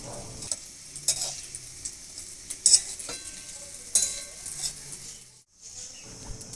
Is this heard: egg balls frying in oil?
yes